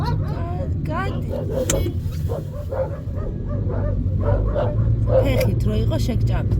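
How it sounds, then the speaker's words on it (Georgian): Several dogs bark and yip close around a car, with loud, irregular bursts and a whimper, while people talk over the barking and the car's engine rumbles beneath. "რამდენი ძაღლებია"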